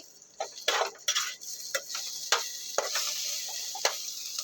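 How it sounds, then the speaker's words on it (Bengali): Bitter gourd fries in a pan with steady sizzling, broken by repeated clicks and scrapes of stirring that come close and sharp, with no voices. "আর করলা ভাজিটা করছি"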